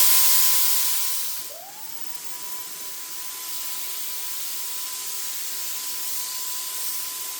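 A Phalanx Turbine 2.0 electric spray gun with an oversized 1.5 tip sprays paint onto a car fender, giving a steady broad hiss over a constant turbine whine that dips briefly as it starts up, then holds evenly.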